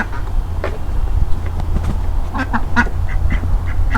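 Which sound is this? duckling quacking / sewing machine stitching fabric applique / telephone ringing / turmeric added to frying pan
duckling quacking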